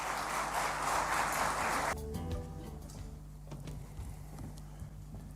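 Audience applause at a South African summit hall, a burst of clapping for about two seconds that cuts off, followed by quieter room sounds and faint thumps.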